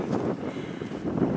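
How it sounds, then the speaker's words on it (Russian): Cold wind at a reservoir shore during spring fishing, a steady rushing blow buffeting the microphone, close and continuous. "Такой ветер хороший очень, холодновато"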